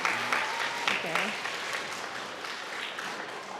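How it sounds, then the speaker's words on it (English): Schoolchildren clapping for classmates during a chapel service at a Lutheran school, a burst of applause that swells briefly and tapers off, with a voice speaking at the start. "You want to clap for everyone?"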